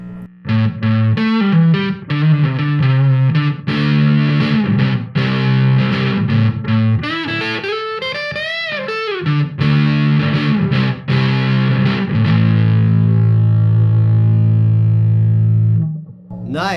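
An electric guitar on its neck pickup plays a clean-tone riff through a fuzz pedal, loud and continuous, with a sliding, bending passage midway and a long sustained low chord ringing out near the end.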